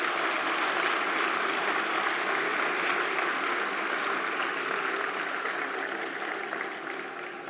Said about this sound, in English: So once again, a round of applause for Dr.